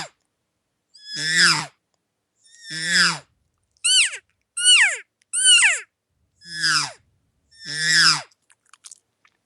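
A cow elk call is blown in a series of seven buzzy, descending squeals with pauses between them. The calls are close, loud and clear, and some are short and clipped, imitating the estrus buzz of an elk cow.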